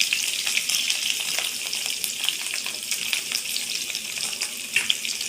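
Green chillies and radish pieces frying in a pan for radish chutney, a bright steady sizzle with frequent small crackles and light stirring, moderately loud and without speech.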